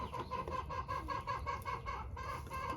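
Re-homed hens cluck softly in a steady, repeated rhythm while pecking at squash seeds, close by and fairly quiet, with no voices.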